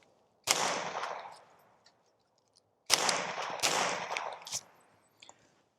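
Two sharp, loud reports from a Winchester Subsonic .22 round fired through a small PipSqueak suppressor, each a crisp pop with a short decaying tail, spaced about two and a half seconds apart, the second trailed by faint clicks.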